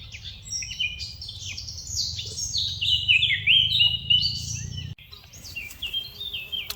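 Birds chirping outdoors in the wilderness, with a steady stream of high, varied tweets and trills close by over a soft insect hum and no talking.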